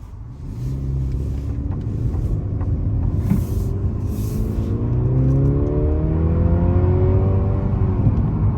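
A 2023 Mercedes-Benz C300 4Matic with rear-biased all-wheel drive accelerates into a corner, its engine note climbing steadily in pitch through rising gears under road and cabin rumble.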